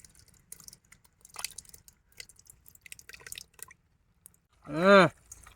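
Half a litre of yogurt is poured into chicken biryani cooked outdoors in a mango grove, giving soft, faint wet squishes and drips. A short voice comes in near the end.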